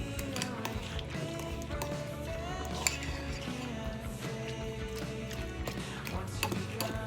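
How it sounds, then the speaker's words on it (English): A spoon or utensil stirs extracts into butter in a bowl, giving a continuous scraping and clinking with irregular light knocks against the bowl, close by and fairly loud throughout. "Give it a good stir, good mix."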